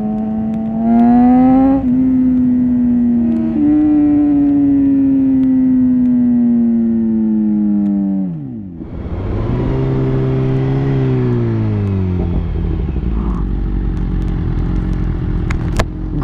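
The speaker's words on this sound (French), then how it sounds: "Le son de cette moto, il est vraiment" A BMW S1000RR sport motorcycle engine revs loudly up and down, its pitch climbing and sliding in long sustained sweeps before settling into a lower, throaty idle.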